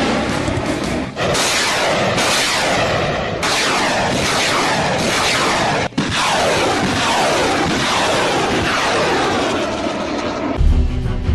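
Norinco Type 90B multiple rocket launcher firing a continuous salvo of rockets, a loud sustained roaring rush broken by sharp surges and brief dips, ending with a deeper rumble.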